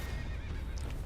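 A horse neighs loudly in the Elden Ring video game, a single whinny over a steady low rumble of game ambience.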